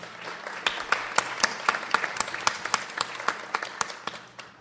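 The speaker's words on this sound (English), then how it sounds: "So, give him another round of applause." Scattered applause from a modest audience at a LUG Radio Live USA 2008 panel debate, with individual sharp claps standing out clearly, moderately loud, continuing for several seconds and tapering off near the end.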